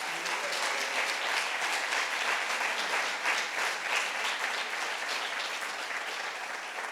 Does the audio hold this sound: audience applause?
yes